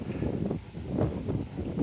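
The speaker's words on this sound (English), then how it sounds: "Very windy here as well." Steady gusting wind at a castle buffets the microphone with a low, continuous roar that swells and eases, no other sounds standing out.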